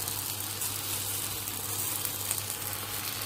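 Stuffed msemen flatbread filled with minced meat and peppers fries in a pan, giving a steady, close, even sizzle with faint crackles and no voices.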